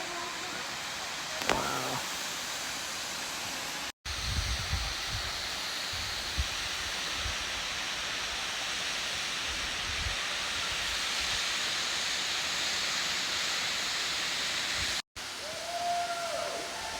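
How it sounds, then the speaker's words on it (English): A huge waterfall in the Appalachian Mountains sends up a continuous broad rushing roar, steady throughout apart from two brief cuts, with faint brief sounds near the start and end. "Huge waterfall."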